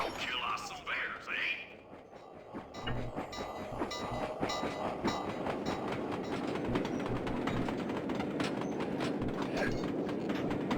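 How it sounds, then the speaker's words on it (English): Trains rumble past in the video game Sly 2: Band of Thieves, a steady loud rolling rail noise with rhythmic clatter building after a brief lull, mixed with game sounds. "the trains do not appear forever. Eventually they all disappear in the tunnels that you can't follow them into, but they are useful for hitching a ride."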